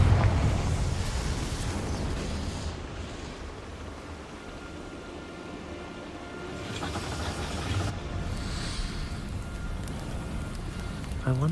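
Confringo fire explosion spell cast in Hogwarts Legacy, a roaring burst of fiery rumble that swells, fades and flares again across the clip, with a person talking over it at times.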